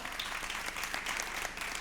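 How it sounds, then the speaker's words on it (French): Dense, steady applause from a crowd at a brand event, fairly faint, continuing throughout without a break. "qu'on applaudit très fort"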